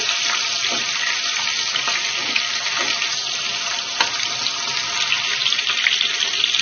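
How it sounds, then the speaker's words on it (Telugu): Cleaned dried fish frying in oil in a pan, a loud dense hiss of sizzling that runs unbroken throughout, close and without voices. "శుభ్రంగా క్లీన్ చేసి పెట్టుకున్న ఎండు చేపలను కూడా వేసుకోవాలి వీటిని కూడా ఫ్రై చేయాలి"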